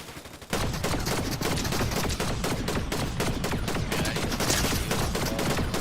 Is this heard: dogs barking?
no